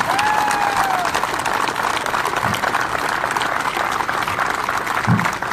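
Steady applause from an audience fills the whole stretch, dense clapping at a constant level with a few faint vocal sounds mixed in.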